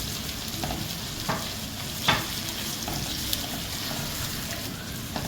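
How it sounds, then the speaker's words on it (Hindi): Ginger garlic paste, desiccated coconut and poppy seeds fry together in a pan with a moderate, even sizzle, while a utensil scrapes and taps against the pan every so often. "फ्रेश जिंजर गार्लिक का पेस्ट डालते हैं, साथ ही में कोकोनट डेसिकेटेड और खसखस ऐड कर देते हैं, और इसे भी अराउंड 2 मिनट्स तक के लिए हम इसमें भून देते हैं"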